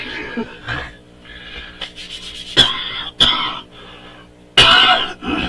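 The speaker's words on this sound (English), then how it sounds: "Always coughing. I hate coughing." Several sharp coughs and throat clears come in uneven bursts, close to the listener, with short quiet breaths between them.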